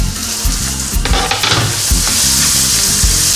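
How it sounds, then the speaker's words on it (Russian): Salmon patties sizzle loudly in a frying pan, a steady close hiss of hot oil broken by a few stirring scrapes and clatters, with no voices. "Жарим все это дело теперь практически до готовности."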